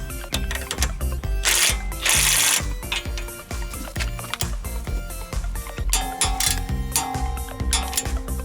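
A ratchet with a 15mm socket tightening the toe link to lower arm bolt on a car's rear suspension, giving fast, loud metallic clicking in bursts with a few hissing gaps and clinks, close up and without talk.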